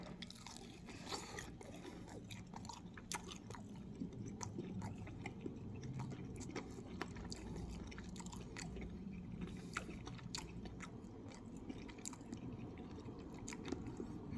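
Close, quiet chewing of a chicken drumstick coated in brown sugar dry rub, with repeated soft bites, crunches and wet squishy mastication and no talk.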